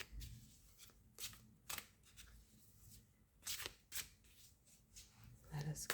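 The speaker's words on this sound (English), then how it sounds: "Now I'll be taking some Wildwood tarot" A deck of Wildwood tarot cards shuffled by hand in quick riffling bursts, quiet and close, with soft pauses between shuffles.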